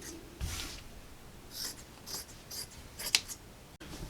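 Scissors cutting across T-shirt fabric for a quilt: a few quiet, separate snips and soft rustles of cloth spread over several seconds, with one sharper click near the end.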